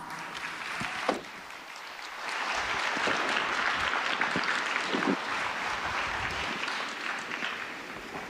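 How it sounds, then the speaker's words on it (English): Audience applause at a tech day event in a large venue, starting with a few scattered claps before swelling into sustained, moderately loud crowd clapping that holds to the end. "Let's give them a round of applause."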